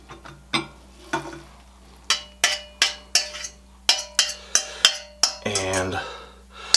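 Cooked, strained noodles mixed into a spicy peanut sauce at a kitchen work table, giving a run of sharp utensil clinks and knocks against a bowl in a quick irregular rhythm, close and fairly loud, ending in a brief wet scraping rustle.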